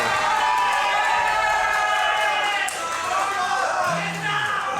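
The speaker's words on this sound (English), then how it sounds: "this has caused a lot of excitement from the crowd" Spectators at a Yu-Gi-Oh! tournament playoff in Berlin cheer loudly and steadily, a dense wash of shouting and whooping with scattered clapping that holds throughout.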